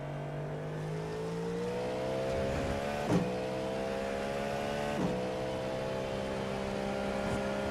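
A Cadillac race car engine drones steadily, its pitch climbing through the gears with brief shifts in between, loud and close with no talking.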